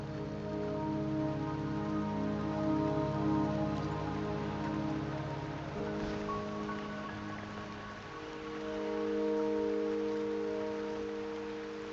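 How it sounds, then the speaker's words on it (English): Steady rain falls in the video game Wuthering Waves, a constant close hiss of drops on surfaces that keeps going the whole time while a soft sustained musical tone plays beneath. "Don't worry, the rain won't last much longer."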